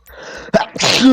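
A single sharp sneeze bursts out close by, followed by another person talking loudly.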